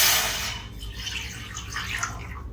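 Two glassfuls of water splash into a cooking pot set out for boiling, a short, bright pouring rush at the start that quickly fades into quiet kitchen background, with no talking.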